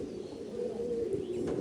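A pigeon coos faintly and softly nearby in a low steady murmur, alone with no talk.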